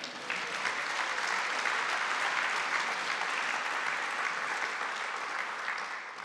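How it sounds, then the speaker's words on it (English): Sustained audience applause fills a hall at the 2018 Conservative Party Conference, a steady wash of clapping from many hands that holds evenly for several seconds before easing slightly. "And I can now pause for applause if you're still in the mood."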